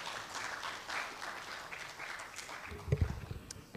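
Broad, steady applause from an audience at an engineering week opening ceremony fills the room, with a few louder thumps near the end.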